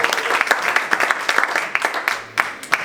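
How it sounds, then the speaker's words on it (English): A banquet audience at a magic circle performance claps in a loose, uneven burst of many hands, fairly close, with scattered sharper individual claps standing out alone. "Give a round of applause again"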